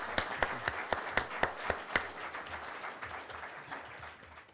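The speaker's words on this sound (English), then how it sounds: "give them a well-deserved round of applause." A burst of audience applause with distinct sharp claps early on, settling into steady clapping that gradually fades.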